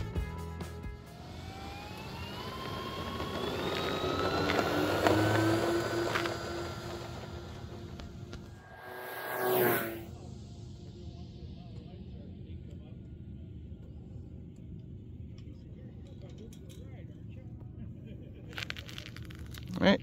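LX B-25 RC model warbird on its maiden flight, a steady electric motor whine rising in pitch as it takes off, then a whoosh as it passes close and fades into the distance, with voices talking over the engine.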